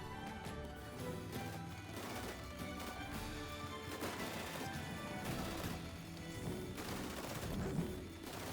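Dense, continuous gunfire and crashing impacts from a boss fight in the video game Cyberpunk 2077, played with starting gear, with rapid bursts layered over game music and no talk.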